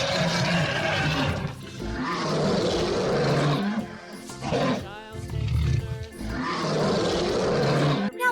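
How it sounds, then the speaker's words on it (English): Lion roaring in repeated deep, rumbling bursts with grunting breaths between them, loud and close, mixed with some speech-like sound. "The lion is mighty and majestic"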